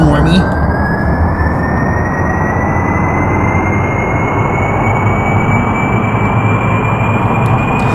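Jet engines roar as a rocket lifts off in Kerbal Space Program, a loud steady broadband rumble with a rising whine that holds throughout, while a voice speaks faintly beneath it.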